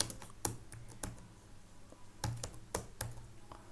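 Typing of HTML list tags on a computer keyboard: soft, close key clicks in irregular small clusters, with quiet pauses between bursts and no voice.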